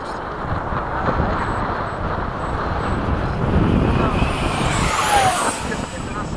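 A FMS F/A-18 model jet at full throttle roars steadily overhead in a high-speed formation flight, a loud, continuous rushing whine that swells slightly as it passes, with people talking over it.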